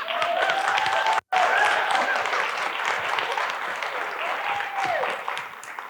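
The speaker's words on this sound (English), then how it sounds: "Clap it up for Dr. Kaufman." Audience applause at a women's panel soirée fills the room with steady, dense clapping, with whoops and faint voices threaded through it, briefly cut by a split-second dropout early on.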